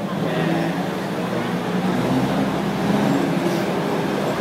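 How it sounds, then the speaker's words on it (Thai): A train rumbles past close by at Maeklong Railway Market in Thailand, a loud continuous roar with steady rail noise filling the whole stretch, voices faintly underneath. "ตอนนี้รถไฟผ่านมาแล้ว"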